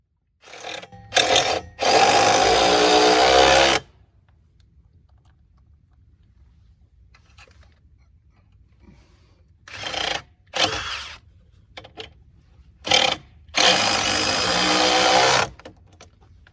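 Power drill driving screws into new porch decking: two close, loud whirring bursts of a few seconds each, separated by quiet pauses, with short taps and handling noises in between.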